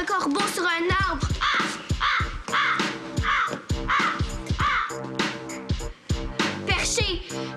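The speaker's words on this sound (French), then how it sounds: "Maître Corbeau sur un arbre" Harsh, repeated crow-like caws ring out loud and close in a rapid, rhythmic series, with voices talking alongside.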